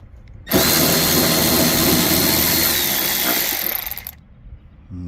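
A power drill spins out a 10mm screw from a Hyundai Elantra front bumper cover, one steady close whine lasting several seconds before cutting off abruptly.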